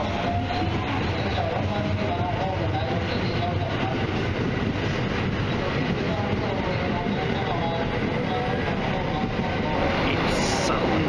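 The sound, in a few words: limited express train at a station in Japan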